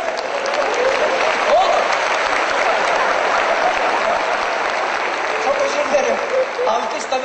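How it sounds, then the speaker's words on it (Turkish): A crowd at a Cem Yılmaz stand-up comedy show, 19 May 2007, applauds loudly and continuously for about seven seconds. It forms a thick, even wash of clapping that holds its level throughout. "Alkış tabii"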